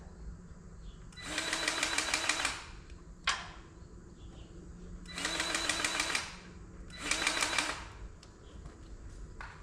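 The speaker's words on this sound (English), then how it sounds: "all it takes is a couple shots of grease until you start to hear it crack" A mechanical grease gun pumps grease into a fitting in three bursts of rapid, buzzy clicking, each lasting about a second, with brief pauses between and no talking.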